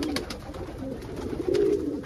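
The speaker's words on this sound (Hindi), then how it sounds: "ये देखिए ओरिजिनल बेदाग कबूतर।" A Bedag pigeon coos nearby in low, soft, rolling calls repeated over a couple of seconds, set against faint background clatter and noise.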